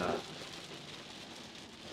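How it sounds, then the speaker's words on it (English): Steady, dense rain hisses without a break, a broad wash of noise with a brief louder burst at the very start. "fucking raining is loud as fuck"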